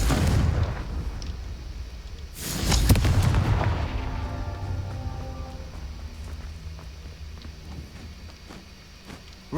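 A Confringo fire spell in the Hogwarts Legacy video game bursts with a loud boom about two seconds in, then rumbles and decays over several seconds beneath a low ambient bed.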